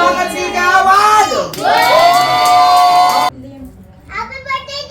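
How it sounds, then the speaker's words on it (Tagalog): Birthday party guests cheering and shouting loudly, with children's voices and clapping, ending abruptly before a quieter stretch of mixed chatter. "Palakpakan sigawan!"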